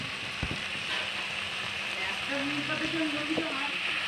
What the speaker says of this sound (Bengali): আর একটু কষিয়ে নেব মশলার সাথে